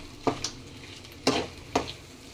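Grated raw mango and cooked rice being stirred together in a pan, with three distinct scraping, rustling strokes spaced across the clip, close and fairly soft with quiet gaps between.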